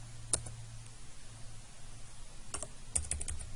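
Keys on a computer keyboard are tapped in a few sparse, soft clicks and short bursts in a quiet room.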